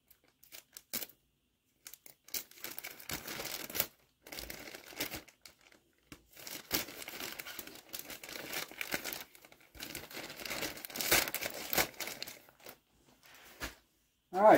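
Scissors snip open a plastic bag for a curved shaft gas trimmer, heard as close crinkling and rustling of plastic in irregular bursts with a few sharp cuts and brief quiet gaps.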